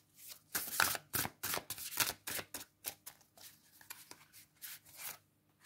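Playing cards are shuffled and laid out for a tarot-style reading, giving a quick run of soft, papery riffles and flicks that tail off into a few lighter snaps, heard close and alone.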